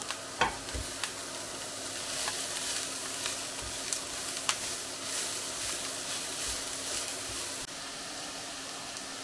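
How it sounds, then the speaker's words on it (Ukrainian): Cabbage frying in a pan: steady sizzling, a continuous crackling hiss with occasional sharper pops, close by and fairly loud, no talking. "Та протушкуємо ще трішечки капусту."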